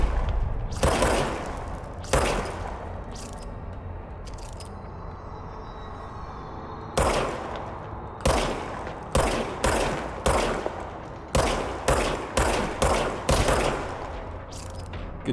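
Gunshots from a weapon in the video game Control: a few scattered loud cracks, a quiet gap, then rapid bursts of repeated shots, close and punchy over a low ambient background, with no voices.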